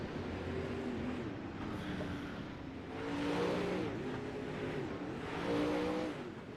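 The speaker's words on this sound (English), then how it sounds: "Cars rolling out of the pits." Several 360 sprint cars roll out of the pits at a speedway, their engines rumbling and swelling in waves as the cars pass, with a steady car-engine drone and rising surges of revving throughout.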